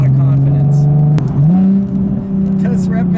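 A 2016 Nissan 370Z NISMO with manual transmission accelerates hard, its engine drone climbing in pitch with a brief dip at a gear change and a little wheel spin, heard loud from inside while a person talks over it.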